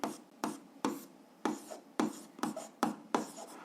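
A marker writing a point on a classroom board, about eight short, sharp strokes and squeaks in an uneven rhythm, close and fairly quiet.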